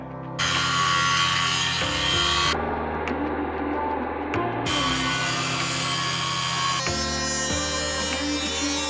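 Power tool slicing an angled cut into a metal jet tank, leaving the bottom intact so it can be bent up, loud and close, in long harsh bursts with brief changes in pitch between passes.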